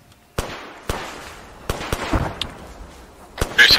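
Sharp, echoing gunshots in the military shooter game Arma 3, around eight cracks fired at irregular intervals, some close and loud, others softer and farther off, against a quiet background.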